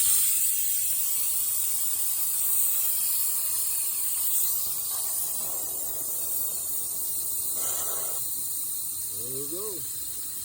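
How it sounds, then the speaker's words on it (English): A steady hiss of a suction pump drawing oil out of a Ford 6.0 Powerstroke diesel engine runs continuously, with faint background noise and brief voices near the end. "let's go ahead and finish sucking the oil out of that"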